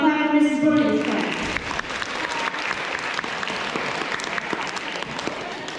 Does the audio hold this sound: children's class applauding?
yes